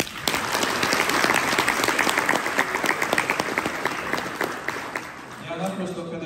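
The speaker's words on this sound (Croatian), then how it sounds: "nagradite ih još jednim aplauzom" Audience applauding children after a performance at a religious program, sustained loud clapping from a large crowd that fades near the end as a voice begins speaking.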